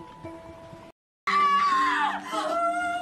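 A girl in a Korean drama lets out a loud, shrill, wavering scream that bursts in after a brief silence and trails off with sobbing tones.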